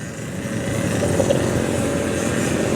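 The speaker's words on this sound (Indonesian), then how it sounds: "kalau ternyata nih suara motornya masuk" A motorcycle engine runs loudly and steadily with a continuous low rumbling roar and broad wind-like noise, heard from close by during a morning ride in traffic on the 17 August Independence Day commute.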